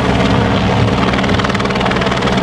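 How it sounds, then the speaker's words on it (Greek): Loud, steady helicopter rotor thudding and engine roar, close by and continuous, with no voices, flying overhead at the Cyprus Rally 2018 ceremonial start. "Το ελικόπτερο μας κάνει παρέα από την αρχή"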